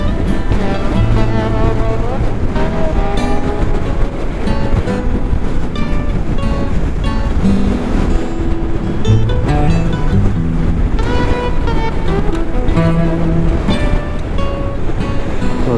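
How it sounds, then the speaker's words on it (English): Strong wind roars against a motorcycle rider's helmet microphone while touring the Shropshire Hills. The buffeting stays loud and continuous throughout, with no break. "The wind's ripping over here."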